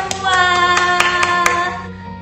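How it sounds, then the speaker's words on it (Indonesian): A handful of sharp, distinct hand claps ring out over a sustained musical tone during an online children's Bible class, spaced irregularly and fairly close. "Tepuk tangan buat kita semua."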